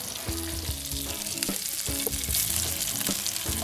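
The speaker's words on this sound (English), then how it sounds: "I just want to sear it on the other side, and also give it that butter taste." Snapper fillet sears in butter in a hot pan, a loud continuous sizzle and crackle up close with scattered pops and occasional clinks of a utensil.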